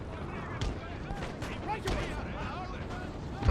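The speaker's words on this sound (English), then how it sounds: "things have certainly become a lot more epic with all this smoke and gunfire going off everywhere" Musket fire from line infantry in Napoleon: Total War crackles in scattered volleys and distant booms beneath a dense battle din, with a voice talking over it.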